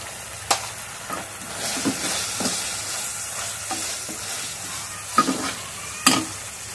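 Masala being stirred into noodles in a hot pan, a steady frying sizzle punctuated by several sharp spatula scrapes and knocks, close and fairly loud, with no voices.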